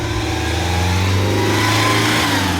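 An NSU TT 1200 rally car engine revs loud and close, its note rising steadily as it accelerates, with no voices over it.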